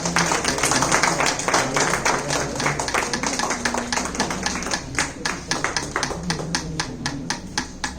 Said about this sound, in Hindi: तालियों की गर्जना।